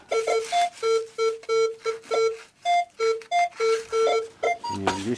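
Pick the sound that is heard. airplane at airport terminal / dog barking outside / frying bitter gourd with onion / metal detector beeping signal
metal detector beeping signal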